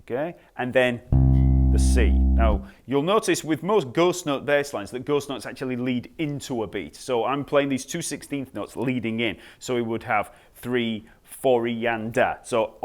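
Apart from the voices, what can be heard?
None of the usual background noises is heard.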